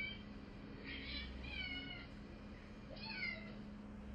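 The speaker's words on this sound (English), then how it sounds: "That was a cat meowing." A Turkish Angora cat meows in a living room, a few drawn-out, wavering calls near the microphone over a steady low background hum, with a short pause between the first meows and a final one.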